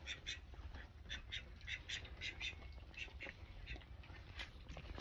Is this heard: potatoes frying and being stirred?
no